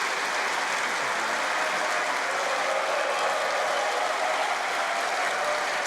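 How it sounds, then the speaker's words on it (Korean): A church congregation at a Korean Independence Movement Day (March 1st) peace and reunification prayer service claps in a thick, continuous wash of applause to welcome the pastor, loud and even throughout with no voices. "우리 따뜻한 박수로 목사님을 환영해 주시면 고맙겠습니다."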